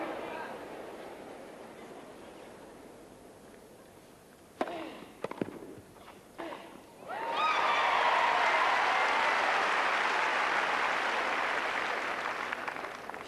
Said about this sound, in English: Crowd is getting a little bit more into it again.